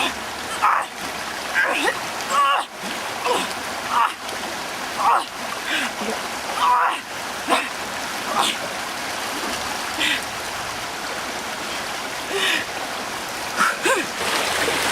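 Rough, fast-flowing river water rushing past a tree trunk lying across the current, a steady broad wash with splashy bursts throughout.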